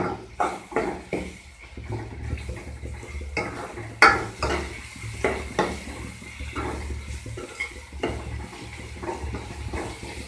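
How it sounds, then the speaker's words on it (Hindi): A spoon stirs coriander powder, salt and turmeric in a hot pan for potato-tomato curry, giving repeated close scraping strokes in an irregular rhythm over a soft, low background sizzle. "इनको अच्छे से मिक्स कर देंगे।"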